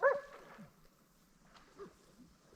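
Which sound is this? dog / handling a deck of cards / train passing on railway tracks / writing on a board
dog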